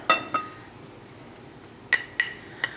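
A spoon clinks against a bulk container of paprika while scooping, two bright metallic taps, then a pause, then three more close clinks in quick succession.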